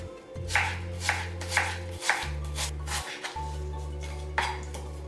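A knife slices an onion into half rings on a cutting board, about eight crisp strikes in an even rhythm over a low continuous hum.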